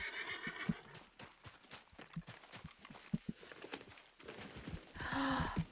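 Horse in the video game Red Dead Redemption 2, hooves clip-clopping in an uneven walking rhythm, then a loud whinny near the end, fairly close but quiet overall.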